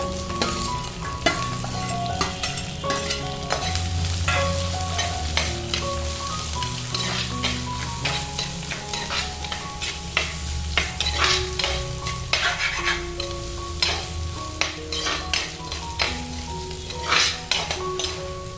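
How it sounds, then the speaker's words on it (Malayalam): Chopped shallots and green chillies are sautéed with ginger and garlic for a Kerala coconut fish curry: a loud, continuous sizzle and crackle, with frequent scraping and clinking from stirring and steady tones in the background. "ചെറിയുള്ളി അരിഞ്ഞതും പച്ചമുളകും കൂടെ ചേർത്തിട്ട് വഴറ്റാം"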